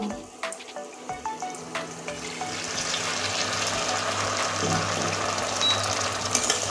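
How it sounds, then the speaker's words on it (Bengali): Water is poured into a pan of fried spices, a few clinks of a utensil giving way to a loud, rising, hissing sizzle that fills the rest of the moment, close and continuous, no speech. "এবার দিয়ে দিব অল্প পরিমাণ জল"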